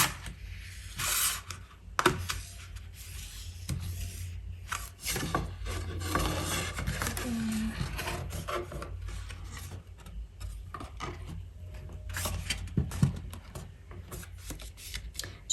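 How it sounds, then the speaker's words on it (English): Thick 350 GSM cardstock being folded and burnished along score lines for a double easel card, giving close, soft rubbing and rasping strokes with a few sharper creasing taps, steady and quiet with no talking. "So we're going to fold and burnish all of these."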